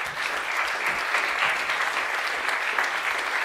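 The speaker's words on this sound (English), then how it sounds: "Let's have a big round of applause for our panelists." A sustained round of audience applause for panelists at a policy discussion on EU fiscal rules, dense and even, with no speech over it.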